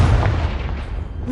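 Blast from a fire spell in the Hogwarts Legacy video game: a heavy, loud, close low-end thump that rumbles and decays over about a second.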